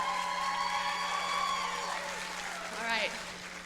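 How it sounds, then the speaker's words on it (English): Applause from a concert audience for the live band at a Grimmie Foundation 2023 show, a steady dense patter mixed with crowd noise and a sustained musical hum, with a brief voice near the end. "can we please give a huge round of applause to the band?"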